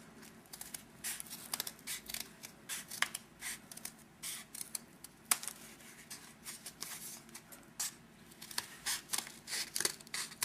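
Scissors snip through a cardboard toilet paper tube while leaf shapes are cut out, a steady series of close, crisp cuts and paper rustles with little talk.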